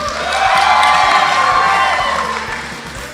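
Guests at a wedding reception cheering and applauding after a playful language contest, a loud swell of whoops, shouts and clapping that peaks early and then eases off.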